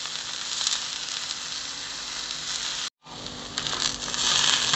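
An onion dosa fries in ghee on a hot pan, giving a steady, close, bright sizzle that briefly cuts out and then returns stronger.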